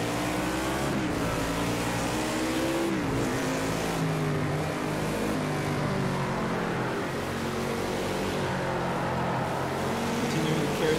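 NASCAR stock car engine in a Project CARS 2 race on the Sonoma road course, droning continuously at high revs with rising and falling pitch through gear changes and corners, loud and steady throughout.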